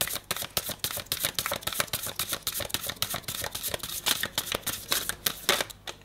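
Tarot cards are shuffled up close in a fast run of crisp riffling flaps and taps, with no talking.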